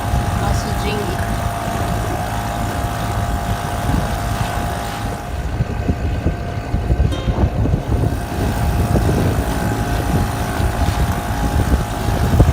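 A motorboat engine drones loud and steady, towing a dinghy whose own propane outboard would not start, with the hum running unbroken throughout.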